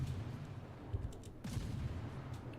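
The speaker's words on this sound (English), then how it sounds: "Fire off a few shots at this enemy destroyer." Warship main guns firing in the naval battle game World of Warships, a steady low rumble with a couple of heavy booming shots breaking through, with no voices.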